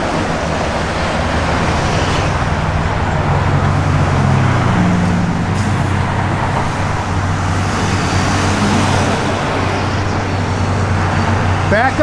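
A 1966 Pontiac GTO idles through its dual exhaust, a steady low engine rumble that runs continuously and fairly loud, with a voice talking over it.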